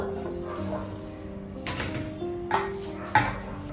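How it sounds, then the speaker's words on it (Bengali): A lid comes off a pot of rested rice-flour dough for puli pitha, with a soft rattle and then two sharp metallic clinks close by over a quiet kitchen hum. "দশ মিনিট হয়ে গেছে, ঢাকাটা খুলে দেব।"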